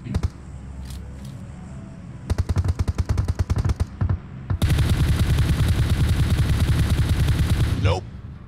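Automatic gunfire from PUBG Mobile, with several bursts of rapid shots and then one long sustained volley. The fire is loud and close and carries on without a break.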